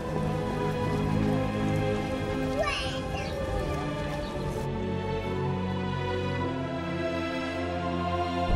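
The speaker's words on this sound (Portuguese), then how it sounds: "Eita, chuva, hein?" Rain patters steadily in the video game The Witcher, a dense constant hiss mixed with background music and game ambience.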